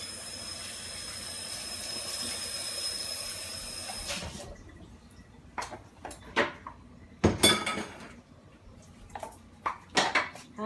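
A bowl is cleaned out at a sink: a steady rush like running water for a few seconds, then irregular clinks and clatters of dishes knocking together, fairly close and with no one speaking.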